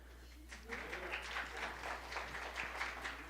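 An audience at a music cafe applauds: soft, steady clapping spread across the room, fairly faint and continuous for a few seconds.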